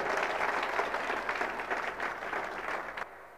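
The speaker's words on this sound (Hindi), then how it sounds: "जबरदस्त ताली होना चाहिए, जबरदस्त।" Hall full of people at a business meeting claps loudly and steadily for about three seconds, a dense even wash of applause that stops abruptly.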